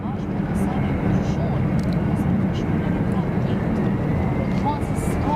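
An airliner's jet engines spool up for takeoff on a cross runway at Zurich Airport, a steady broad roar heard from a distance, with a person talking over it.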